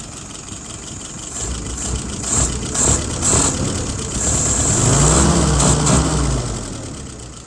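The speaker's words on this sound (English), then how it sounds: "Idle RPM is right about 660, 650, 660." A car engine idles steadily at about 650 to 660 RPM, a continuous low hum with a slight rise and fall in level, heard alone without talk.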